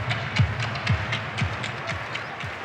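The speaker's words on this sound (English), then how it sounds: "Crowd really into this game" Crowd noise at a baseball stadium during a tense late-inning Dodgers game, a broad roar of spectators with rhythmic clapping and stamping thumps under it.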